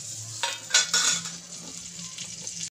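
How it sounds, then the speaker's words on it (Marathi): A spoonful of ghee sizzles in a heated kadhai, a soft steady fry with a few metallic clinks and scrapes of a spoon against the pan, close and fairly quiet. "मी इकडे कढई तापून घेतली आहे, त्याच्यात मी 1 मोठा चमचा तूप घालणार आहे"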